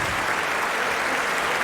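Stadium crowd at the London 2012 Olympics applauding steadily before a qualification round, a dense, even wash of clapping that holds at constant loudness without a break.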